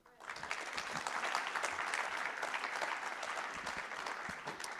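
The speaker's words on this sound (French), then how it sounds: "Je pense qu'on peut l'applaudir." Steady audience applause at a forum, a dense continuous patter of many hands clapping at moderate distance, sustained without pause for several seconds.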